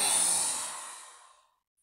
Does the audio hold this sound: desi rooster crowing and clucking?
no